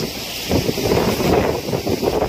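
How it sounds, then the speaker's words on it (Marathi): Strong wind blows across a hill fort with a loud, steady gusting rush and buffeting roar on the microphone, with no speech. "वार खूपच आहे, बेकार वार आहे, ढकलतंय अक्षरशः आम्हाला."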